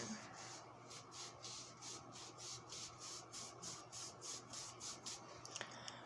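Homemade wax paste being rubbed onto skin by hand, a rhythmic series of quick scratchy rubbing strokes, close and quiet, about a dozen even passes with no speech.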